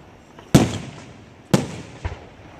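Festival finale fireworks burst outdoors in two loud, sharp booms about a second apart, each trailing into a crackling decay, followed by a smaller pop.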